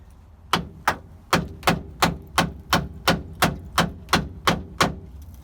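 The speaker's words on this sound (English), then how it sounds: "the hammer and chisel manizzle doesn't work too bad" Hammer and chisel striking metal on a 1958 Volkswagen Beetle, about a dozen sharp, ringing blows in a steady, evenly spaced rhythm, close and moderately loud, with no talking.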